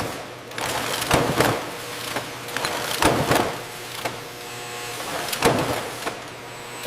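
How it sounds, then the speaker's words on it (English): High-speed labeling machinery works in a hot sauce factory, giving off a repeating mechanical whir and clatter that swells in short bursts roughly every second over a steady hum. "Labels are applied at high speed."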